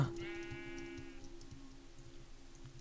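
A sheep bleats once in a video game, a close, wavering bleat of about one second over a low steady background hum, then quiet ambience.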